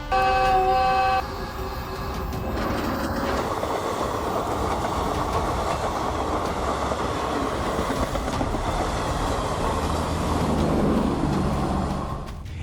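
A train rolls past on railway tracks near grazing livestock, a loud steady rumble with rhythmic clattering of wagons that holds for the whole stretch, with a brief horn-like tonal blast at the very start.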